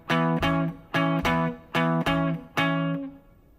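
Electric guitar playing one measure of E blues barre chords, two sharp strummed hits on each chord in a steady, evenly spaced rhythm, loud and close with no voice over it.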